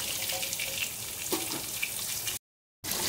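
Vegetables dropped into hot oil for a vegetarian thali give a steady, close sizzle and crackle with brief spits, cut by a short gap of silence near the end.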